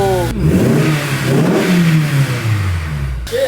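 A loud race car engine revs up and down close by, its pitch rising and falling in strong sweeps before cutting off abruptly.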